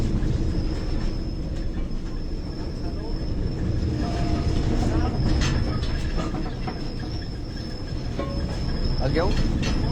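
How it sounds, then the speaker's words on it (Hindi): A ropeway train at Jogindernagar on a steep incline rumbles steadily with dense rail noise, metallic clatter and occasional wheel squeals throughout, loud and close. "ये जोगिंदर नगर की इसे मेरे ख्याल से रोपवे ट्रेन कहते हैं।"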